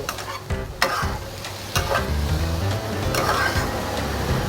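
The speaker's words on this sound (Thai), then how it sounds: "นี้เราก็ผัดจนกว่า ข้าวโพดจะสุก" Corn sizzles loudly in a hot wok while a utensil scrapes and clanks against the metal in quick stirring strokes.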